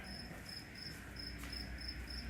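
A cricket chirps outdoors in regular, evenly spaced high trills, fairly faint over a low background hum.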